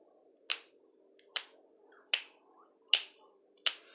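Five crisp finger snaps spaced under a second apart, sharp and close against a faint low hum, each snap ringing briefly before the next, with no voices.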